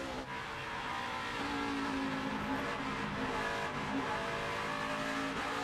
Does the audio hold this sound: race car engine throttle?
yes